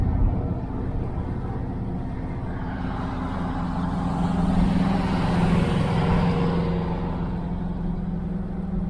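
A convertible Camaro rolls past on a mountain road during a hot rod tour, its engine a steady broad rumble that swells slightly midway amid continuous road and traffic noise.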